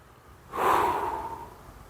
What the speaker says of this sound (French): Respiration.